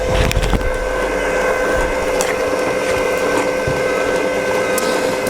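A Moulinex ZU420E juice extractor pressing beetroot, with a steady loud motor hum and grinding, crunching texture as the pieces are crushed, close up and without speech.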